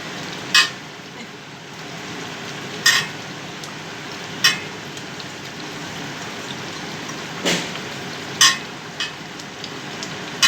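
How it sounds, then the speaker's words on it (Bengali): Steady low sizzle of frying with occasional sharp pops and crackles spaced a few seconds apart. "মশলাটাও রেডি হয়ে যাচ্ছে ফটফট কাটপাট করছে"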